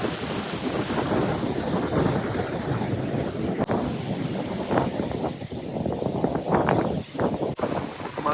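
Strong wind roars across a Lake Superior beach, buffeting the microphone in loud, continuous gusts with surf rumbling underneath.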